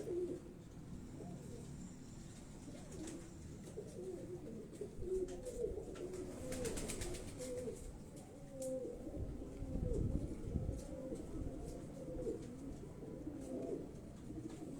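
Pigeons coo softly on a Karachi rooftop, low repeated murmuring calls overlapping in a steady background, fairly faint with light outdoor ambience throughout.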